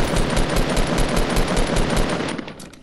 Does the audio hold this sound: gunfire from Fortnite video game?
yes